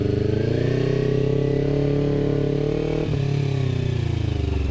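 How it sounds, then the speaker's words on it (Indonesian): Kawasaki Ninja 250 FI fitted with a DX Generation Racing RVR short exhaust, loud and close at low RPM, a steady deep bassy drone that holds throughout with one brief dip near the end. "Kita coba riding ke depan, muter doang biar kalian tahu gimana suara DX Generation kalau misalkan dipakai riding."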